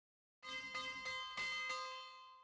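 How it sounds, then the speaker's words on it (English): Lunch bell ringing in the video game Agatha Christie: Death on the Nile, five bright metallic strikes in a steady rhythm, each ringing out and overlapping into a sustained tone, heard alone and fairly loud. "Saved by the bell. It's lunchtime."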